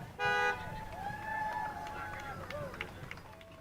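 A loud, brief horn honk from a float in a Fourth of July parade in Show Low, heard near the start over crowd noise and ongoing talk.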